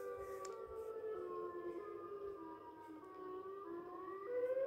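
A Siren Head creature's siren wails in a long, faint, sliding tone that bends downward and then rises, heard alone and distant, like a civil defense siren.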